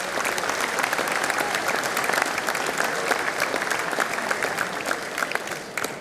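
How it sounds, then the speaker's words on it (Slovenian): A seated audience at a Slovenian beekeepers' day ceremony gives warm, sustained applause, many hands clapping densely and evenly for the whole stretch, with faint voices underneath and a slight tapering at the close. "Spoštovano občinstvo, vas pa prosimo za en aplavz."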